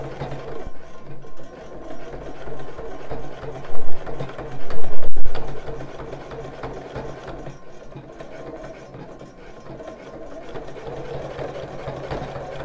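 A domestic sewing machine stitches the casing of a handmade bra, running in a steady mechanical whir with rapid needle chatter, briefly louder bursts around the middle, and a short click as the stitching pauses, heard up close.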